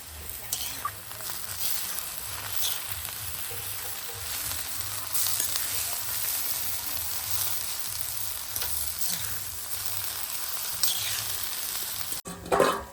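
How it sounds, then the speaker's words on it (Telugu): Tomato being stirred into bamboo shoot curry in a pan, a continuous soft frying sizzle with light scraping stirs throughout and a louder clatter near the end, no voices. "టమాటా అన్నది వేసుకుందామండి. లైట్గా కలుపుకుందాం."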